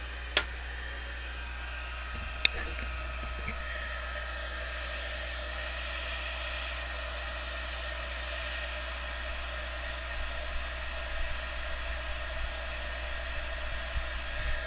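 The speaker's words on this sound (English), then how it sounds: "You're going to use your heat gun." A heat gun melts embossing powder on a stamped card, giving a steady, close airy roar of blowing hot air that holds evenly throughout with one sharp small click near the start.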